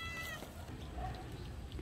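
A stray cat meows faintly at a distance, a short single call over steady outdoor background noise.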